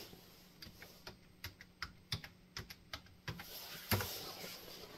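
Rapid keystrokes on a computer keyboard while setting up a Raspberry Pi Zero 2 W, a run of distinct close clicks at an uneven rhythm with a louder burst near the end.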